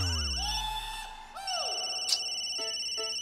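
An electronic phone ringtone plays a looping melody of swooping, chiming tones, loud and close, with no one talking.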